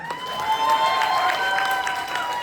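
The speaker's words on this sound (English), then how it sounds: "let's give a huge round of applause to all of our contestants." An audience applauds contestants at a school pageant, a moderate wash of clapping and crowd noise with occasional cheers, steady for the whole stretch.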